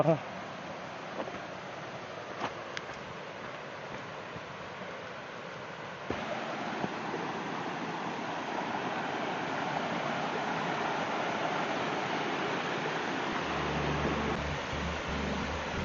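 A mountain valley stream in Bangtaesan's primeval forest flows with a steady, broadband rushing hiss that stays constant throughout, heard fairly close, with a faint low hum near the end and no distinct voices.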